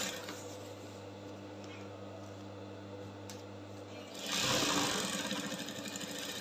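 A sewing machine stitching an embroidered bubu kaftan runs with a steady close hum and whir, then gives way to a louder burst of rustling fabric and handling.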